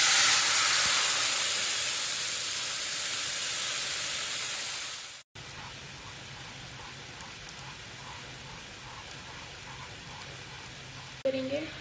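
Chili flakes and ground tomato hit hot oil with a loud, steady hiss that slowly fades. After a brief cut, a quieter, even sizzle continues to the end.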